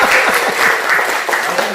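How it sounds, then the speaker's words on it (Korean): Short burst of steady, close applause from staff gathered for a training session at a senior day-care center, a dense patter of many hands lasting under two seconds. "박수."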